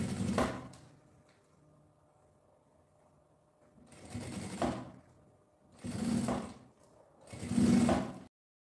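A sewing machine runs a wide finishing topstitch on a makeup bag in three short stitching runs that follow an opening burst, with quiet pauses between them, and no one speaks.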